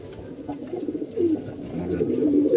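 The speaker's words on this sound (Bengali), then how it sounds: "যে কবুতরগুলো আমাদের দেখেন নাক ফুলে বসে রয়েছে" Pigeons coo steadily in a loft kept for racing, several soft, throaty calls overlapping at close range with a low rumble of background noise.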